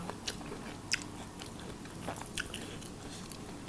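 Crunchy bites into a crispy fried tilapia fish head served with sour curry, a few sharp crackling crunches spaced over a steady low background, close and fairly quiet.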